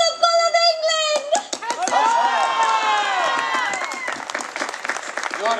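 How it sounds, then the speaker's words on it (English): A crowd at a Renaissance faire's royal court show bursts into cheering and applause after a costumed performer's shouted call, with a strong voice at first, then a swelling roar of clapping and whoops lasting several seconds. "A cheer for the Bull of England!"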